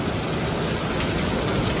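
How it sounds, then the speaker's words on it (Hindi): Heavy torrential monsoon rain pours down in a loud, unbroken close-up roar of hiss and spatter, with no voices. "बारिश ने हद मचा रखी है।"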